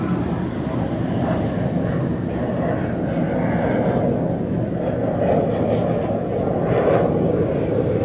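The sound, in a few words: MiG-29K fighter jet taking off from INS Vikrant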